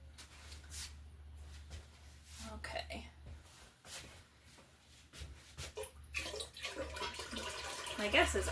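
Filtered water poured into a vessel while making blackberry mead: faint splashing and gurgling with uneven surges, near the microphone, under quiet background noise.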